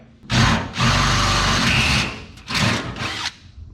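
A power drill boring a hole through the floor of a 1928 Ford Roadster, two loud close bursts of whining drilling with a short pause between them.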